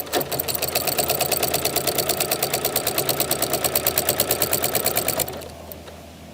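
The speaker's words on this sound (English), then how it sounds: "sew with my foot down" A sewing machine stitching quilt binding runs in a rapid, steady mechanical chatter close up for about five seconds, then stops abruptly, leaving a quiet hum.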